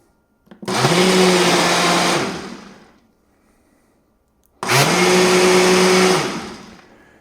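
A blender mixing a milk protein shake runs in two loud, whirring bursts of about a second and a half each, separated by a quiet pause, with no talk.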